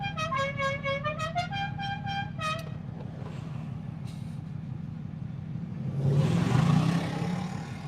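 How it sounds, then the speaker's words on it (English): A Dixie horn on a vehicle on the road toots a quick rising series of musical notes, loud and near, followed by engine rumble and a louder surge of road noise. "that's the sound of the Dixie horn"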